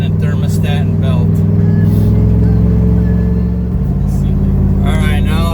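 A Chevy 3500 dump truck engine running with the pedal held to the floor, a loud, steady low rumble that drops in pitch partway through, with a person talking over it.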